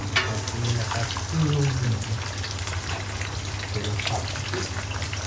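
Bacon oil sizzles in a pan while three plates' worth of Thai stir-fry is cooked at once, with a continuous frying hiss, scattered clinks and stirring sounds, and voices talking over it.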